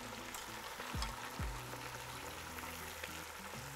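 Chicken sizzles loudly in a pan with lemon juice, pomegranate molasses, paprika, black pepper and seven spice for Palestinian musakhan, a steady close frying hiss broken by a couple of quick stirring scrapes.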